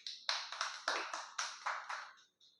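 Clapping at an election rally, delivered as about eight sharp bursts in quick succession, each fading briefly before the next, with a faint final pair at the end. The sound is close, with no crowd roar behind it.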